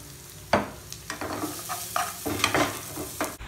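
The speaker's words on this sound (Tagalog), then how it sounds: "kumukulo-kulo na yung sauce natin" Mushroom, onion, tomato and garlic sauce sizzles and bubbles in a pan close up, with scraping stirring strokes and soft pops throughout.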